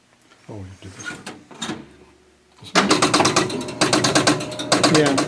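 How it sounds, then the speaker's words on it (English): Vintage pinball machine at a mid-century house estate sale, its mechanism failing to release the ball: loud, rapid repeated mechanical ratcheting and clattering bursts dominate the second half, after quieter clicks and thumps with some talk early on. "you keep hearing that kind of a sound. It's trying to get the ball out, and it can't get the ball for some reason"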